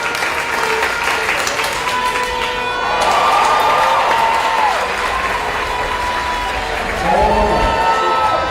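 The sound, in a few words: applause for the next runner at a junior track meet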